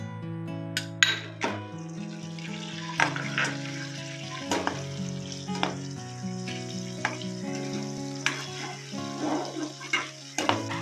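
Eggs frying in oil with turmeric in a pan, a steady close sizzle broken by scattered clinks and stirring taps throughout, with no talking.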